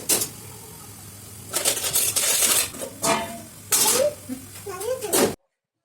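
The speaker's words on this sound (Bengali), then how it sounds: "এইভাবে মাংস ভাজুম।" Marinated meat for a non-veg biryani fries in a pot and is stirred, with loud scraping and hissing bursts in short spells, and a voice speaks briefly near the end.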